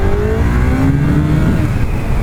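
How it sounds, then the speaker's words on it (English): A 2002 Honda CBR1100XX Super Blackbird motorcycle accelerates hard from a standstill toward 60 mph, its engine note climbing steadily in pitch through a gear under loud, constant wind rush, with no voices. "let's see what this bike is like in a 0 to 60 run"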